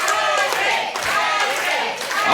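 A wrestling crowd claps and cheers to rally behind the Paige sisters, a dense, loud, continuous wash of applause and shouting from a packed venue, with a commentator's voice mixed underneath.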